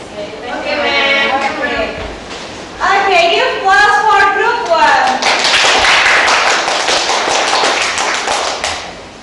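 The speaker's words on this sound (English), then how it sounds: "give applause for group 1." Classroom applause for a student group after a math microteaching presentation: voices speak first, then a room full of students claps steadily and loudly for several seconds.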